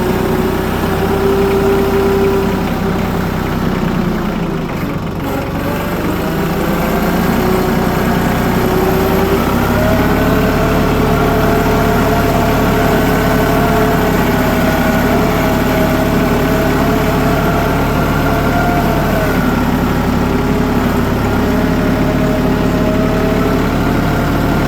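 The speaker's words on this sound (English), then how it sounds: "This bad boy is a pretty nice little tractor." A small farm tractor engine idles steadily and close by, a continuous low rumble with a slight hum and no voices.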